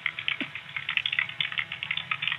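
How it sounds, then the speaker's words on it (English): A 911 emergency dispatcher types on a computer keyboard with rapid, irregular key clicks that stay quiet and close throughout. No one speaks. "And she's typing away."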